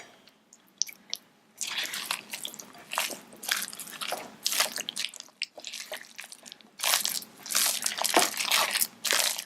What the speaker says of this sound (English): Now we're just going to mix everything together.